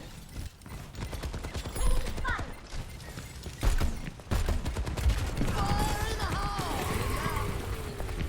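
Gunfire in the video game Overwatch 2, rapid bursts of shots and mechanical clatter running continuously, with players talking excitedly over it.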